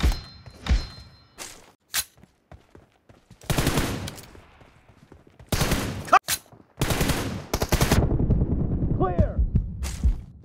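Gunfire in the mobile shooter PUBG Mobile during a one-on-one team deathmatch: several loud bursts and single shots spread across the stretch, separated by short quiet gaps, with brief voice callouts in between.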